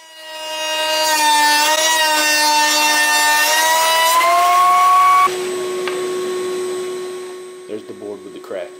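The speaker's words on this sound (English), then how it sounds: "I run them through the thickness planer and take them down to a thickness of 3/4 inch" Wooden boards for coasters feed through a thickness planer: a loud, close, whining motor with strong tonal harmonics that drops to a steadier lower hum midway, then a few small knocks near the end.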